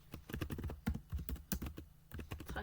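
Rapid keyboard typing on a computer keyboard during a ClickUp task-entry demonstration, a run of close, crisp key clicks in an uneven rhythm with no talking.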